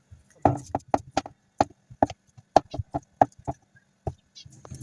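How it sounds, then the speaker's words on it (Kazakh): A knife chops boiled potatoes on a board for okroshka, a cold Kazakh-style summer soup, in a series of sharp, irregular close knocks with short gaps between them. "Піскен картопымызды тураймыз."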